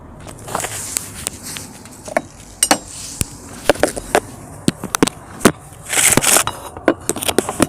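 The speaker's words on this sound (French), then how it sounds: "Je vais aller chercher un marteau." Sharp metallic hammer taps struck one at a time on a Peugeot 206 HDi engine mount, close and irregular, with a brief rattling scrape near the end.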